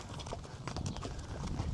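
Horse hooves clip-clop in a steady walking rhythm on a sunny riding tour through Agadir, Morocco, near and moderately loud, with outdoor ambience around them.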